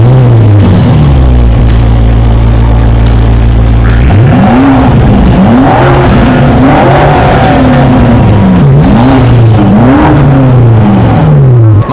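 A BMW M5 fitted with a full original Akrapovic exhaust system idles with a deep rumble, then revs repeatedly in rising and falling bursts, very loud and close with no talking.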